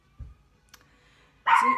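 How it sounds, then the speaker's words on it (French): A dog gives a single loud, close bark after a soft thump and faint clicks in a quiet room. "Kelly, t'es vraiment pas un gentil chien aujourd'hui"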